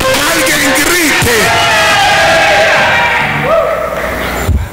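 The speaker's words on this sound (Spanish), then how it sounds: "Yo necesito que alguien grite a mí. ¡Alguien grite!" A church congregation shouts and cheers back at a preacher, a loud, sustained mass of yelling and whooping voices filling the whole stretch before dropping off at the end.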